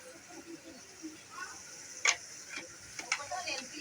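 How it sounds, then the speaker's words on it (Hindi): Chili sizzles and fries in a pan as it is stirred, a faint crackle with a few sharp scraping clicks from the stirring, with a voice speaking faintly. "मिर्च मैं डाल रहा हूँ।"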